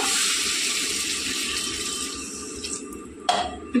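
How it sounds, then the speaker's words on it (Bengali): Water poured into chicken curry cooking in a wok, a loud steady gushing stream that tapers off near the end, followed by a couple of sharp clanks. "তো এই অবস্থায় আমি এর মধ্যে পানি অ্যাড করে দেব"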